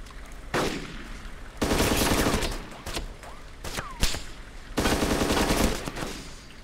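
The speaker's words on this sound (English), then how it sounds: "they're all shooting me" Bursts of rapid automatic gunfire from a multiplayer shooter video game, loud and close, coming in several dense volleys separated by short pauses, with scattered single shots between them.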